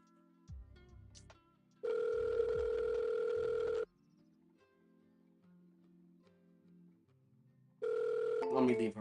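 Phone call ringback tone on a call before voicemail, two long evenly pitched rings separated by a quiet gap, heard close over a phone line with a voice briefly audible around them.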